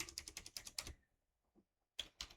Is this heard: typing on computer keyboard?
yes